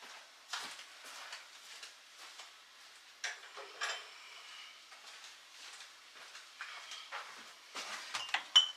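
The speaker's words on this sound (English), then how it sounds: "Give these a shake to get them to settle down in there." Glass jars of canned mandarins are shaken with an oven mitt, giving soft irregular clinks and knocks, faint and intermittent, with a few sharper taps toward the end.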